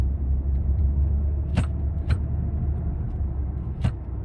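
A car with an ABS warning light on and a loss of power runs downhill in fifth gear, giving a steady low engine and road rumble heard from inside the cabin, with a few brief clicks and no talk.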